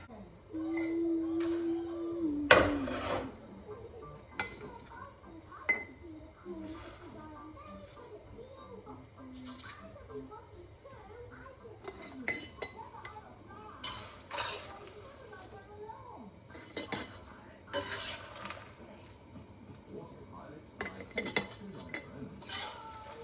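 Fried flattened rice (chira) poured slowly from a pan into a dish, giving light rustling and clinking of utensils and cookware in a home kitchen, with a brief louder scrape near the start and soft talk throughout.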